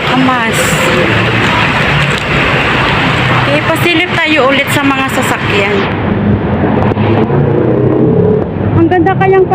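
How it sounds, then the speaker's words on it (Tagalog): Busy road traffic with a double-decker bus passing delivers a loud continuous rumble of engines and tyres. Someone talks over it throughout. "panoorin yung mga sasakyan. Ayun yung double deck na sasakyan."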